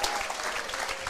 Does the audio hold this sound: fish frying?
no